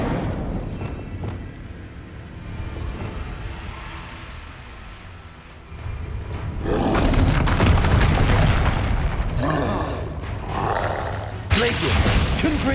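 In Hogwarts Legacy on PS5, the Incendio fire spell erupts with a loud roaring whoosh of flame over rumbling game ambience, swelling in a couple of heavy bursts.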